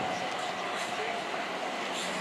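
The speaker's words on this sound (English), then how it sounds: "off goes 387219 from Gatwick Airport to London Victoria" Class 387 electric train departing Clapham Junction, a steady rumbling rail noise with a faint electric whine running throughout, heard from the platform with some background voices.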